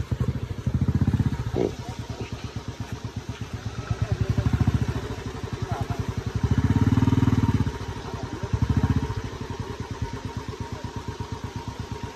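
Motorcycle with a damaged silencer, chugging with a loud, rough, rapid pulsing exhaust beat that swells in several revving bursts, ridden on a rough road between Rakum and Badhaychaur.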